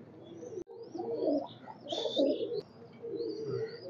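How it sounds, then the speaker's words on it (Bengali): Pure Oman bloodline pigeons cooing nearby, soft low rolling coos repeating in overlapping phrases with a few higher chirps above. "এগুলো সব আপনার পিওর ওমান ব্লাড লাইনের কবুতর।"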